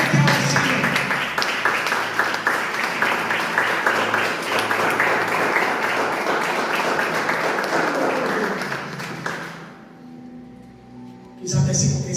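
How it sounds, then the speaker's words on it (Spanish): A church congregation applauds after a sermon: loud, dense clapping and cheering that runs for about nine seconds, then drops to a quiet hum before a brief burst of sound at the end. "Dale un aplauso a Él que ha vencido."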